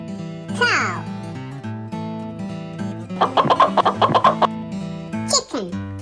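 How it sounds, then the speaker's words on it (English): Chicken clucking over a cheerful backing melody, a burst of rapid, repeated clucks in the middle flanked by brief squawk-like calls near the start and end. "Chicken."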